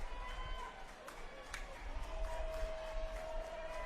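Broad crowd murmur and scattered cheering from a stadium audience at an NC State versus Florida State college baseball game, a steady wash of distant noise swelling slightly, with a faint tone running underneath.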